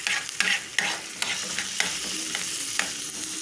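Onion and garlic fry in a pan for a dish of shredded dried beef with onions: a steady close sizzle with repeated sharp scrapes and clacks of a utensil stirring at uneven intervals, and no voices.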